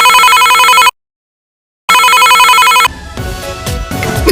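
A telephone bell rings loudly in two long bursts separated by a pause, followed by softer, busier background noise.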